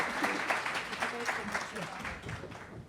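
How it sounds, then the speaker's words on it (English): An audience gives a round of applause at a community institute launch event, moderate clapping from a crowd that fades gradually, with voices mixed in underneath. "Let's give them a round of applause"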